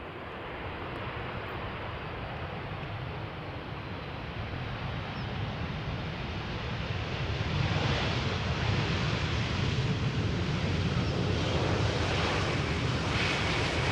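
An airliner arriving on runway 18R at Amsterdam Schiphol produces a steady, broad jet roar that swells gradually and grows louder toward the end, with no voices over it.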